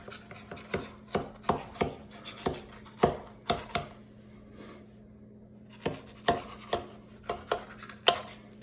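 Knife cutting around the edge of a pumpkin pie crust, a sequence of sharp, close taps and scrapes in an irregular rhythm, with a brief quiet gap midway before the cuts resume.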